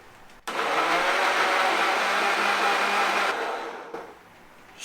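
A blender blending curry paste starts abruptly and whirs loudly and steadily for about three seconds, then winds down and stops, close by with no talking.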